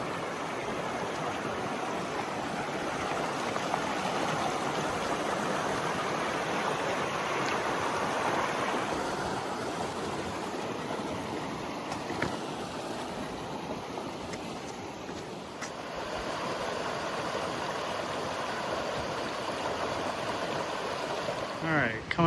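A river rushes steadily beside a rough, trail-less stretch of the Pacific Crest Trail, making a loud, continuous broadband wash of flowing water up close with no pauses.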